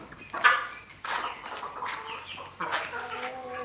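Several chickens in a coop cluck in short irregular bursts, fairly close, with a few sharper calls standing out against a quiet background.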